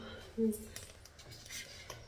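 Rice being served onto a plate in a home kitchen, with a short, close clink of a metal utensil against the dish followed by faint scraping and light handling noises.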